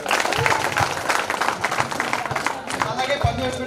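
A youth group in an audience claps loudly together, with dense, steady applause and crowd noise throughout, and voices mixed into the clapping.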